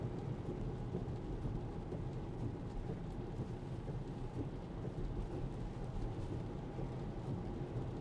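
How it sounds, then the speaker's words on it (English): Rain drumming on a car driving in wet weather from Kirkland to Seattle, with a steady hiss of water and low road rumble throughout and no talking. "this is going to be also a good test of the rain performance we've got"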